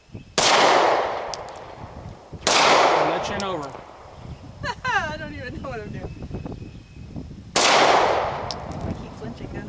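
Three loud, sharp pistol shots ring out after a draw from a holster on a shooting range, each with a long echoing tail, one quick and two spaced farther apart, with voices talking between them.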